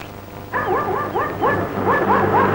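A dog barking in a quick run of sharp yelping barks after a short quiet start, close and loud, continuing rhythmically to the end.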